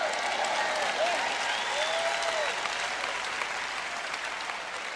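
Steady audience applause fills a church sermon hall, dense and continuous throughout, with a brief voice rising faintly above the clapping.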